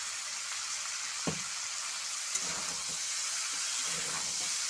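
Chickpeas and potatoes with turmeric frying in a pan, a continuous close sizzle and hiss with a couple of sharp utensil taps and light stirring, no one speaking.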